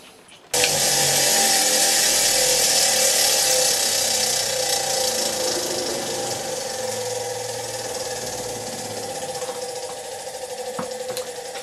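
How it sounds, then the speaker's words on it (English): Bench grinder grinding the tip of a bolt to a rounded point, a loud steady high-pitched whine that starts abruptly and holds for about eleven seconds, with slight fluctuation as the metal is worked, no talking. "We're just going to grind this just to a bit of a point, just so I've got something, a nice little round tip on there. So I'm going to do that on the grinder"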